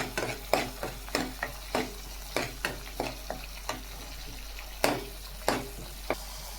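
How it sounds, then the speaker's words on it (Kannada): A spoon stirs amla (Indian gooseberry) rasam sweetened with jaggery in a pot, producing a regular series of light clinks and taps about every half second over a quiet background. "ಇವಾಗ ಇದನ್ನು ಇನ್ನೊಂದ್ಸರಿ ನೀಟಾಗಿ ಮಿಕ್ಸ್ ಮಾಡ್ಕೊಂಡ್ಬಿಡೋಣ."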